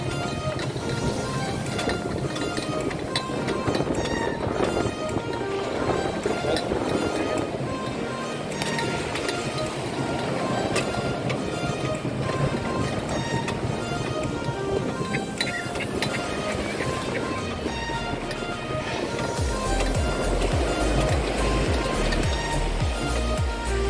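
Ocean waves at Kashid beach rush and rumble continuously, mixed with heavy wind buffeting the microphone, steady and fairly loud throughout.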